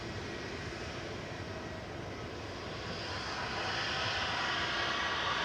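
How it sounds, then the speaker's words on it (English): An EasyJet Airbus A320 Classic takes off from runway 23 left at Manchester Airport, a broad steady engine roar from a distance that swells gradually toward the end, with no voices. "EasyJet departing next on 23 left, heading to Geneva. Flight 2185, operated by an A320 Classic GEZTX that's 14 years old."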